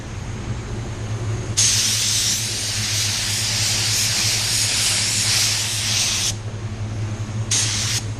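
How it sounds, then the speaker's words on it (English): Spray gun applying white pearl paint, a loud steady hiss for about five seconds, then a pause and a second short burst near the end, over a low background hum. "I'm spraying up so I don't get any curl when I don't need it to be"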